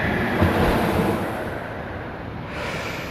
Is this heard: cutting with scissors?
no